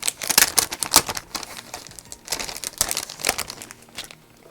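Paper clouds being cut out for a handmade birthday card, with dense crinkling and snipping rustles in quick irregular bursts, close up, fading near the end, no voices.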